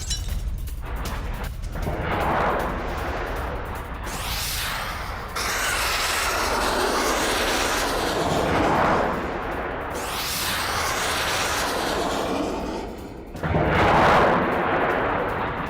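Ballistic missile attack on Zaporizhzhia: a continuous, loud, roaring wash of distant explosions and rumbling booms, swelling at intervals with heavier blasts.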